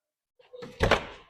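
A house door being opened to walk through, a short close thunk and rattle of the door lasting under a second, then fading.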